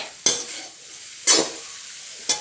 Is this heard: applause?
no